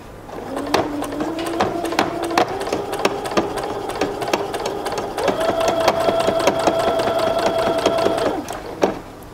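A sewing machine stitches down the corner of drawstring yoga pants fabric, running in two steady close bursts with a brief pause and a final needle stop, its rapid mechanical patter loud and alone.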